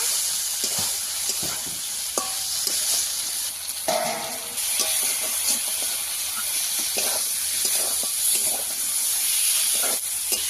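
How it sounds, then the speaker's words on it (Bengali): Fried potatoes and peas stir-fried in a pan for a pangas fish curry made without onion or garlic, a continuous bright sizzle with steady hiss and occasional scraping stirs throughout. "মটর থেকে আবারও ভালো করে একটু কষিয়ে নেব"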